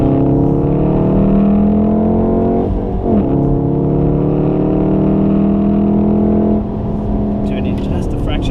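A Volkswagen Golf R with four-wheel drive is driven hard around the Wakefield track day circuit, its engine droning loud and steady with gear changes and shifts in pitch as it brakes and powers back on.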